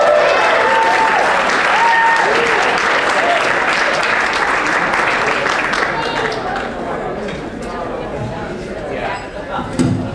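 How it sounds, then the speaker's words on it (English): A banquet audience breaks into loud, dense applause that holds strong, then gradually tapers off with some crowd chatter and voices emerging as the clapping fades. "I think he'd give me a little more applause than that"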